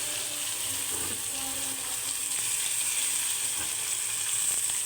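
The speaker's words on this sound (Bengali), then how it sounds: "এবার আলু আর পেঁয়াজগুলো একসাথে ভেজে নিচ্ছি" Potatoes and onions frying together in oil seasoned with nigella seeds, a continuous even sizzle close up, steady throughout with faint stirring and no talk.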